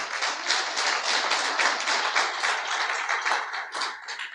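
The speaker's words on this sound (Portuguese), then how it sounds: "Pode aplaudir ao Cristo." A church congregation applauds, a dense, steady patter of many hands clapping continuously at moderate distance and fairly soft level, with no voices over it.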